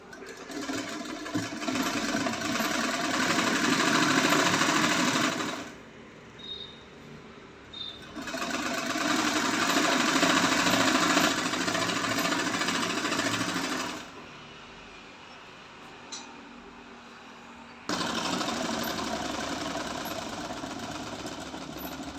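A sewing machine stitching a pillow cover, running in three long bursts of fast, even mechanical whirring and clatter with short quiet pauses between them, close and steady with no talking.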